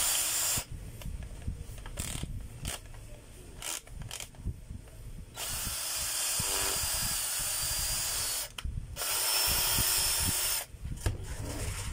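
A DeWalt DCD776 cordless power drill runs in bursts, whirring loudly for a few seconds at a time with short pauses between runs and a longer sustained run in the middle.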